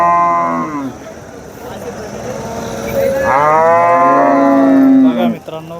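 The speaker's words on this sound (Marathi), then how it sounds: "गाया बघा किती मोठ्या प्रमाणात आणल्या" Cows moo at a Monday cattle market in Wadod, Phulambri, where Jersey cows are traded: a loud nearby moo, a short pause, then a long, drawn-out low bellow close to the microphone.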